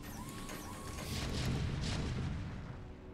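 StarCraft siege tanks shelling cannons during a match, heard as a cluster of heavy booming impacts and crashes, loud and dense, with no voices.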